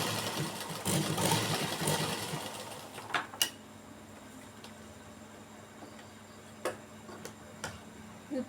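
A sewing machine stitches cloth, with a brief close whirring run at first that gives way to quiet, sparse mechanical ticks and clicks.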